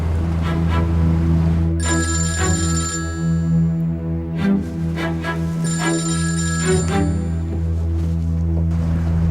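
A telephone rings in two bursts of trilling bells over a dense, continuous background of music or room noise in a Turkish TV drama.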